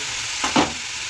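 Spices, turmeric, Kashmiri chilli and green chillies fry in hot oil for paneer posto, with a soft steady sizzle and two quick stirring scrapes in the pan.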